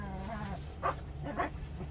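A lively puppy gives two short yips or barks, close but fairly quiet, over a steady low background hum.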